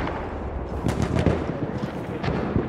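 Machine gun fire in a Battlefield 1 Suez conquest battle, a cluster of sharp rapid bursts over a rumbling, noisy battlefield, loud and fairly near with no talk.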